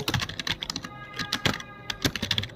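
Rapid, steady typing on a computer keyboard as a question is entered into an MS Word document, close and fairly loud with dense overlapping key clicks and no talking.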